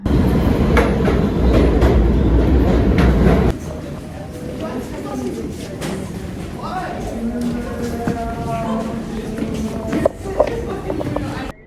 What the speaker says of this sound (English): I'll see you after this train ride, I guess.